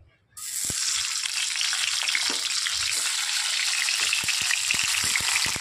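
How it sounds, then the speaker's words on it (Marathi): Bitter gourd rubbed with turmeric sizzles in well-heated oil, a steady loud frying hiss broken by occasional soft knocks of a spatula against the pan. "कारली छान परतून घ्यायची"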